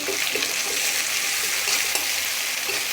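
Chopped tomatoes and garlic sizzle in a pan, a bright, continuous frying hiss close by, broken by soft scraping stir strokes.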